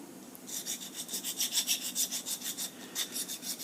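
A metal hand file rasps in quick, even back-and-forth strokes while sharpening a ship auger bit, a steady scraping rhythm, faint and close.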